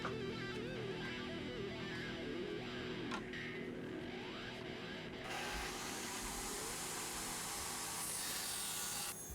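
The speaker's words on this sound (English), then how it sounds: "just using my circular saw around this side" A circular saw cuts material for a life-sized Halo: Reach turret build, producing a steady, high-pitched whining buzz. Its tone shifts partway through as the blade bites harder and the sound turns brighter and harsher, with no speech.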